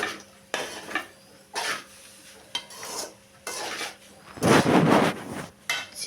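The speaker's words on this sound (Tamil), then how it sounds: "சிக்கன் சேர்த்தாச்சுங்க நல்லா கிளறி விட்டுக்கலாம்" A spatula scrapes and clatters against a pan as chicken and fried rice are stirred, in short separate strokes with a louder, longer burst near the end. The sound is close and there is no talking.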